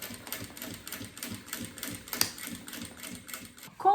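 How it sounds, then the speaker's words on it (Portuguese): A sewing machine stitches fabric bias binding along the edge of clear plastic for a pencil case, giving a close, rapid mechanical ticking in steady bursts that ends with a short whir, and no one talks. "agora eu vou passar a costura na bordinha do viés para prender no plástico"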